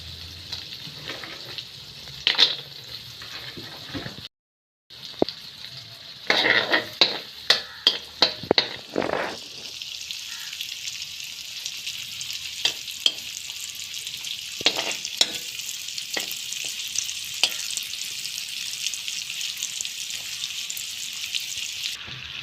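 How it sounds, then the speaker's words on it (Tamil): Raisins and cashews frying in ghee in a pan, giving a steady bright sizzle with scattered stirring clinks and scrapes throughout, close and alone without talk. "நாங்கள் எடுத்து வச்ச ப்ளம்ஸ் முந்திரி எல்லாத்தையும் வறுத்தெடுப்போம்."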